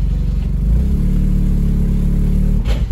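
A cheap old pickup truck's engine drones loudly and revs up as it backs up in reverse. A steady low roar dominates, with a brief dip and surge near the end.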